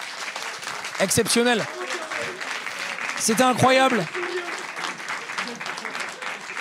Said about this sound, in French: Vous pouvez vous applaudir les streamers